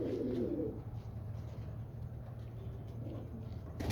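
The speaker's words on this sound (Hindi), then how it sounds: "ये मेरा कबूतर है" A homebred pigeon cooing close by, one soft throaty coo at the start followed by faint low murmuring against steady background noise.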